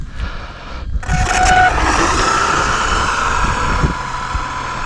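A Traxxas XO-1 RC car driving fast on a road, its motor whining and rising in pitch as it accelerates, fairly loud and near with a steady rushing background.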